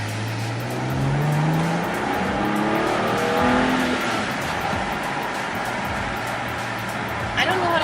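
BMW E90 with N55 engine and COBB charge pipe accelerating hard, a rising engine note sweeping upward with turbo whoosh, heard from inside the car with people talking over it.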